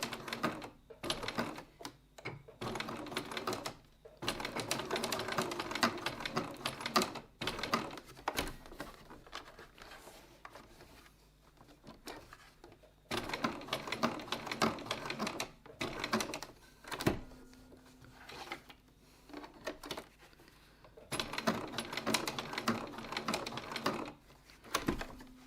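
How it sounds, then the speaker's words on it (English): A sewing machine stitches along the outer edges of leather wallet straps, running in repeated bursts of rapid mechanical chatter with short pauses between passes, close by and fairly quiet, with no talking. "Stitching my outer edges first."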